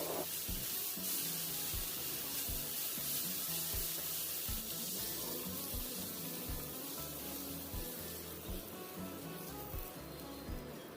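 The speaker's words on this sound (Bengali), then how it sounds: "30 সেকেন্ড থেকে 1 মিনিট পর্যন্ত হাই ফ্লেমে এই সবজিগুলোকে একটু সতে করে নেব" Vegetables sauté in a pan over a high flame, a faint, continuous crackling sizzle with soft repeated stirring knocks and no speech.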